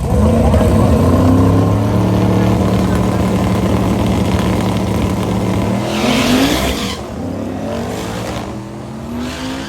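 Drag cars, one of them a pickup truck, make a loud pass at Northern Michigan Dragway, engines roaring and rising in pitch before dropping off into the distance, with a voice talking over the noise.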